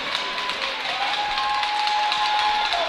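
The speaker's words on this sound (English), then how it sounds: "Both sides trying to pump up the crowd with it, hammering their sticks on the ice" Hockey players hammer their sticks on the ice during a tight game, a dense, steady clatter of taps that blends into the roar of an arena crowd, with no pauses throughout.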